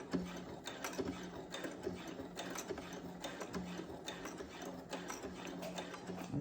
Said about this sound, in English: I'm going to go ahead and back stitch